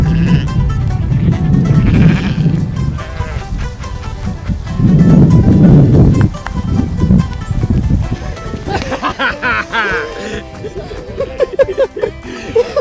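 A herd of sheep on a regenerative grain farm bleats loudly and repeatedly, with overlapping calls near and far, wind rushing in the background and a voice talking at times.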